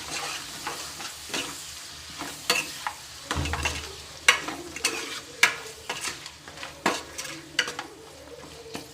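Blood curry frying in a pan, mixed with irregular spatula scrapes and knocks over a low sizzle, the strokes spaced about a second apart and close by.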